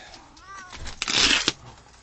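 Cat meowing nearby: a short wavering meow followed by a louder, harsher drawn-out yowl, close and fairly loud, with a little noise around it.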